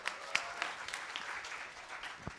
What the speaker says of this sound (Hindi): एक बार जोरदार और तालियां